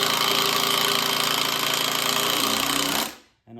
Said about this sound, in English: a nice slow drill like that will actually countersink that